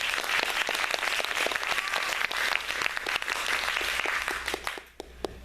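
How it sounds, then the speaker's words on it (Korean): An audience at a student software presentation applauds, dense crowd clapping that holds steady and then thins out and fades near the end. "박수 한번."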